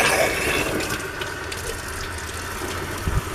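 Water pours steadily out of a car engine radiator during a cooling system flush, a continuous broadband splashing gush with a brief low thump near the end.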